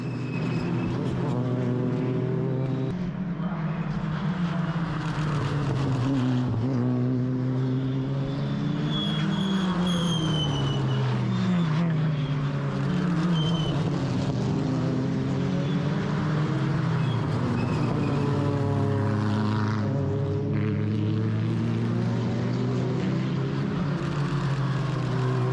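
TCR UK touring race cars roar past at Brands Hatch on the climb up Hailwood Hill, loud and continuous, engine notes sweeping down one after another as cars pass in close succession.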